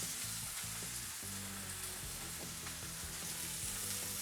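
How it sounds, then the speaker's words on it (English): Pork chops fry in oil in a skillet, with a dense, steady sizzle that holds loud and unbroken throughout and has low bubbling underneath. "Ooh, listen to that sizzle."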